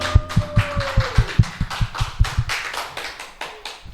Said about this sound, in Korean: 우리 하나님께 감사의 박수 드리겠습니다